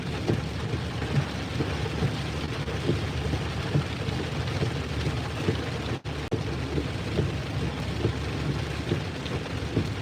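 Heavy rain pouring steadily near the Arizona–Mexico border, a dense continuous downpour drumming on surfaces with low rolling thunder rumbling underneath throughout.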